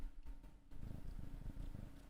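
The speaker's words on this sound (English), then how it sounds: "They're purring. I don't know if you can hear them." Two sleepy cats purr softly up close, a low rhythmic rumbling pulse with steady breaths, faint and without any talking.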